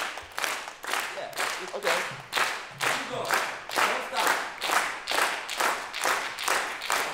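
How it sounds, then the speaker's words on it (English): A lecture audience claps together in a steady beat, about two sharp claps per second, loud and sustained, while a voice encourages them over the rhythm. "I need everyone to start clapping like this"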